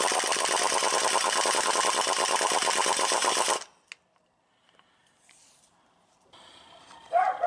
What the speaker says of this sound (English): An impact wrench with a short, just a swivel extension will just about be your best friend here.